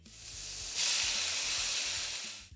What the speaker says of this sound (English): I'll give these a quick stir fry until they soften slightly.